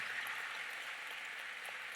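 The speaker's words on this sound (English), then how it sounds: "Give him a round of applause," An audience at a Louisville leadership luncheon applauds with steady, sustained clapping heard from some distance, fairly faint and even throughout.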